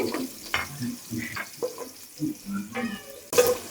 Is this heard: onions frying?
yes